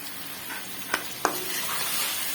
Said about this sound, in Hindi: अब इसको हम भूनेंगे तकरीबन, इसको जो है 15 मिनट तक भूनेंगे